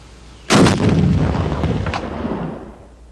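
An M72 rocket launcher fires with one sudden, loud blast that stays as a heavy rumbling roar and fades slowly over the next two seconds, heard close and alone.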